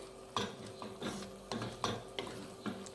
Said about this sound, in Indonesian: Diaduk-aduk. Biar santannya tercampur.